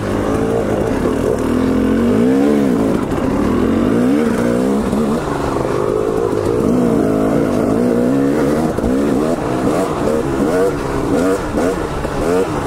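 A Honda CR250R and a KTM dirt bike ride together, engines droning and revving with rising and falling pitch, loud and continuous, with voices partly mixed in.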